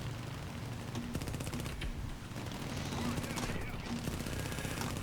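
Machine gun bursts from a War Thunder battle, rapid rattling fire running almost continuously under engine rumble and game noise.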